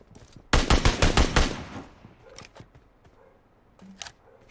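Rapid burst of automatic gunfire in the battle-royale game BGMI, loud and close for about a second, followed by scattered fainter shots and thuds.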